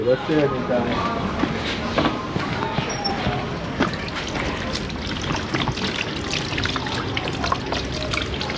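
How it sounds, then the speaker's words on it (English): Water runs from a pipe tap outdoors in a continuous trickling splash, fairly close, while people talk over it. "turn the pipe on"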